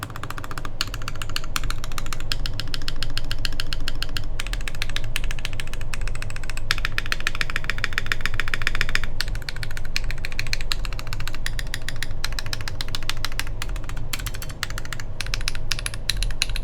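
Dense, continuous clacking from typing on Tech Bear TB-65F mechanical keyboard switches, a fast rattling stream of keystrokes with brief gaps, close and loud, with no voices.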